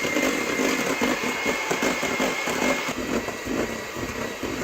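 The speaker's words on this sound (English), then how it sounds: "Beat the mixture all until it's thick and glossy" An electric mixer beats turrón mixture until thick and glossy, a steady high-pitched motor whir with a faint rhythmic churning, continuous and close throughout.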